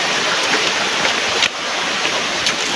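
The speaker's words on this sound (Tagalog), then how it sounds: "Ilog yan." River running through a rural property in Antipolo, a steady, loud rushing of water close by, continuous and unbroken with no voices.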